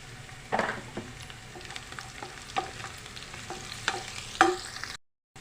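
Potatoes fry in a pan with a little turmeric, a soft continuous sizzle punctuated by several sharp scrapes and clinks of a spatula stirring, ending abruptly in silence; no one speaks.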